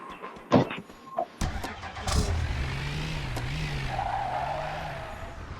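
A video game car starts up and speeds off, its engine revving into a sustained drone with a brief tire squeal, loud and close after a few sharp clicks and thumps at the start.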